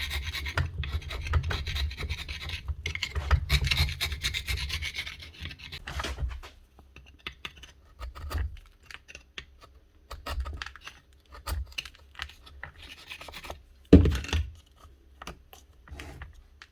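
Steel chisel scraping hardened cement off a Bosch GRW 12 E mixing drill, a steady rasping scrape for the first six seconds, then shorter intermittent strokes with a sharp knock near the end, close up and with no talking.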